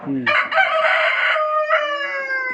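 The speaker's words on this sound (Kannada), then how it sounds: "ಇಲ್ಲಿ ಕೋಳಿ ಕೆದರಿ ಕೆದರಿ ತಿನ್ಲಾಕತ್ತಾವ್ರಿ" A rooster on a poultry farm lets out one long, loud crow close by, with a brief cluck just before it and a little chicken chatter around it.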